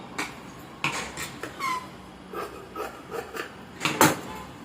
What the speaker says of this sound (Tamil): இப்போது நான் இது கட் பண்ணிக்கிறேன் பாருங்கள்